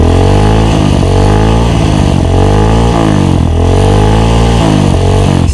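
A supermoto motorcycle engine revved hard on the throttle, very loud and close, rising and falling in repeated pulls.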